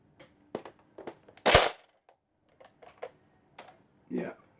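A Nerf blaster fires once with a sharp, loud snap, framed by small scattered plastic clicks and handling noises from priming and mode buttons, close up in a quiet room.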